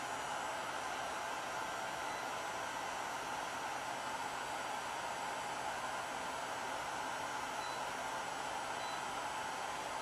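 A hair dryer runs steadily with a constant broadband whoosh and motor hum, faint and unchanging throughout, while a clamp meter measures its current draw at an outlet.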